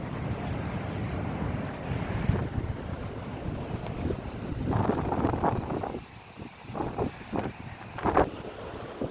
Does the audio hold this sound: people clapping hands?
no